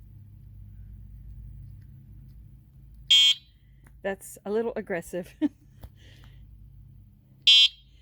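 Two short, sharp electronic beeps from an electric bike's warning beeper sound several seconds apart over a low rumble, with a person speaking briefly between them.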